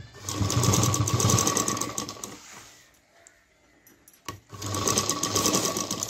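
A sewing machine stitches fabric for a lunch bag in two fast, steady runs of close, rhythmic clatter, separated by a short quiet pause with a single click.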